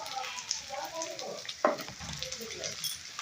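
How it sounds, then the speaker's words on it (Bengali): Tomatoes with salt and turmeric fry in a pan for an okra and prawn curry, a steady soft sizzle running throughout with a brief louder stir or clatter near the middle. "টমেটোটাকে ভালোভাবে কষিয়ে নেব।"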